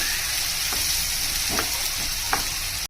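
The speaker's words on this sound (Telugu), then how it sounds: "పచ్చి వాసన పోయే వరకు ఫ్రై చేసుకోండి" Masala fries in a pan over a low gas flame, giving an even, close sizzle throughout with a few soft stirring scrapes.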